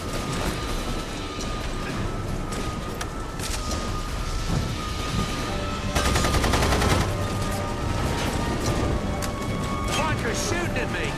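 Enemy gunfire aimed at the player in a video game about blowing up Nazi-built things: dense, continuous rattling bursts of shots that swell louder midway, under someone talking.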